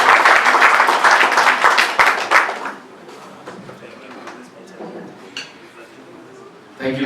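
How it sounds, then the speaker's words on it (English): Audience applause at a golf tournament prize presentation at Muthaiga Golf Club, a burst of dense clapping for about two and a half seconds that quickly thins to scattered claps and faint murmuring. "A round of applause for Kavit Kapu."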